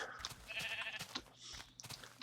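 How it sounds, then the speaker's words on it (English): Sheep in the video game Minecraft bleat in a few short, nasal calls spread over a couple of seconds, fairly close and clear against a quiet background. "did those sheep just pop out of thin air? I think those sheep just popped out of thin air"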